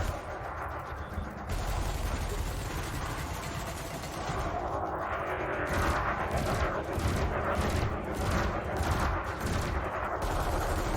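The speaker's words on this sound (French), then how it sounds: "J'espère que vous avez noté l'efficacité des multicanons contre les cibles sans bouclier" Multicannon fire at a drone target in the space combat game Elite Dangerous, a sustained, loud, rapid stream of gunfire that continues without a break, with faint voices under it.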